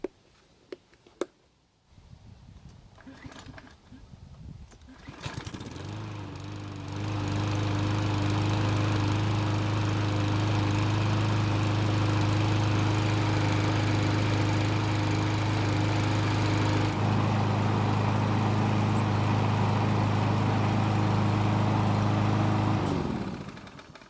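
A petrol lawn mower engine sputters through a few attempts and then catches and settles into a loud, steady running drone that holds for the rest of the clip, with no talking.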